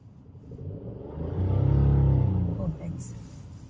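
A car with the gear shifter on the left pulls away in first gear, its engine rumble swelling as it accelerates and then easing off, moderately close.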